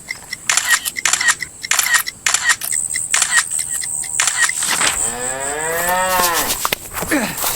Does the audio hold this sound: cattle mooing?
yes